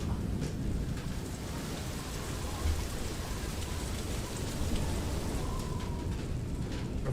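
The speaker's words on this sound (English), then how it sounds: "I think it's just like a rumble and the hail hitting your beautiful ship" Hail pelts the hull of a land boat ship in the video game Far: Lone Sails, a dense continuous patter over a low rumble that holds steady and fairly loud from start to end.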